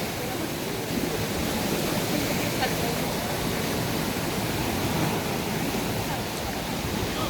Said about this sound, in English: There's a waterfall, so you will.